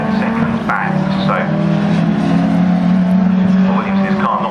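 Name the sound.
Euro Saloons race cars at Snetterton circuit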